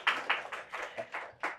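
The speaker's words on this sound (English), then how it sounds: "You want to clap with her?" Rhythmic clapping from an audience joining in with a guest during a talk-show interview, six evenly spaced claps over a couple of seconds, fairly close and clear.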